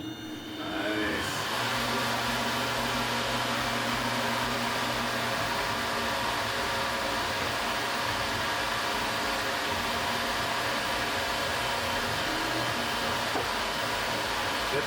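A Tormach 770 CNC mill starting up and then running, a sudden rise into a steady, even whir with a whining tone that holds unchanged, with no talking.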